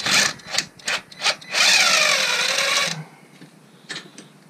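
Close-up metallic scraping in short repeated strokes while unscrewing a part on a Toyota Supra, then one longer grinding rasp before it fades to quiet, with no talking.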